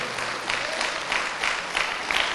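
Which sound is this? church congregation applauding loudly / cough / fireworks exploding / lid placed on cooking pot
church congregation applauding loudly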